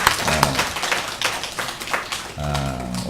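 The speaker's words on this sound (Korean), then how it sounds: "한번 격려하며 박수 한번 할까요?" Church congregation applauding a choir: a dense patter of many hands clapping for a few seconds, with a voice heard briefly at the start and end.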